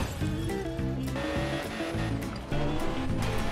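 A racing video game car engine roars with nitro boost, a loud, steady revving drone that surges louder near the end, with no talk.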